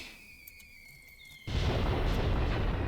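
An artillery shell explodes in Graviteam Tactics, a World War II-era tactical battle, as a sudden loud boom cuts in halfway through a quiet stretch with a faint high whine, then rolls on as a dense, sustained rumble.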